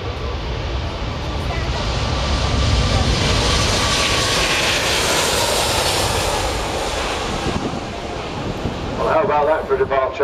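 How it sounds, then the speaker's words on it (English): An Airbus A380 airliner departs at an airshow, its jet engines producing a loud, sustained roar that swells and then fades, with wind noise on the microphone. Voices come in faintly near the end. "How about that for a departure for a big airliner?"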